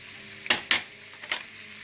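Cumin seeds hit hot butter for an aloo samosa filling, giving two quick, loud crackling bursts close together, then a softer third flare of sizzle against a low background hiss.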